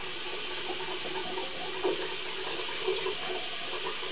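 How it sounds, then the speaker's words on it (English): Water runs steadily from an outside water line at a house, a continuous even rush with a couple of faint knocks and no talking. "Run that water for me."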